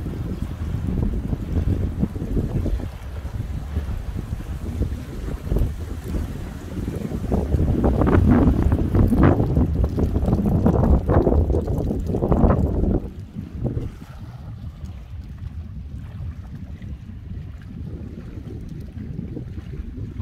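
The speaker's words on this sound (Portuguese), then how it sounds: "Mas tá muito vento aqui, pessoal. Muito vento mesmo." Strong wind buffets the microphone at a quay on the São Francisco river in Januária, Minas Gerais, a continuous loud roar that swells and gusts in the middle before easing to a steadier rush.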